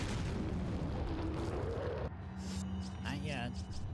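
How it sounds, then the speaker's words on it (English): A grenade explosion in the video game Resident Evil 4 booms loud and dense for about two seconds, then cuts to quieter game sounds with a rising tone, while a voice talks throughout. "I'm doing another grenade"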